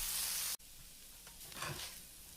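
Pork hash with browned potatoes sizzles in a pan, a loud steady hiss that cuts out briefly, then resumes more softly with scraping stir noises near the end.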